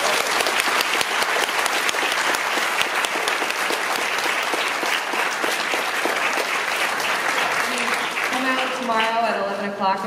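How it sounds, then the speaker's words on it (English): A large audience applauds panelists at a Star Wars science panel at San Diego Comic-Con, a loud dense roar of clapping lasting about ten seconds, with a voice speaking faintly underneath as it tapers off at the end. "Let's give a big round of applause for our panelists."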